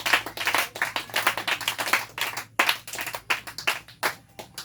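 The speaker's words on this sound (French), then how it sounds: "Est-ce que l'église est là? Acclamons le Seigneur Jésus." A church congregation claps in a fast, steady rhythm to acclaim Jesus, many hands sounding together loud and close with no talk over it.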